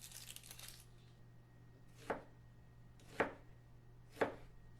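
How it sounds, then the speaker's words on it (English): Three crisp knife chops on a cutting board, spaced about a second apart, cutting an onion into bite-sized pieces, close and isolated over a low steady hum after a brief rustle. "you're going to chop everything into bite-sized pieces"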